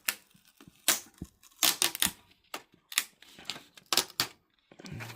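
A plastic sheet is peeled off an Acer Predator XB271HU 27-inch LCD monitor during disassembly, producing a series of sharp crackling snaps and tearing bursts close by, irregular and separated by quiet gaps, with no talk.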